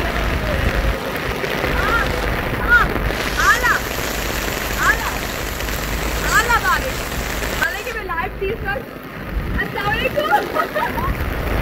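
Steady heavy rain hisses throughout, with voices talking over it and a few chirpy whistles cutting through the downpour.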